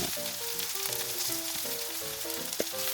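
Korean shrimp patties fry in oil in a pan, giving a steady bright sizzle and crackle throughout with a few louder pops, close and continuous, no voices.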